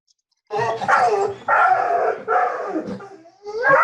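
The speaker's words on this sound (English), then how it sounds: "Is that you or your dog?" A dog barks loudly and close to the microphone during an online lecture, giving four drawn-out, howling barks in quick succession with no talk over them.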